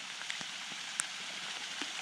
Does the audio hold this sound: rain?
yes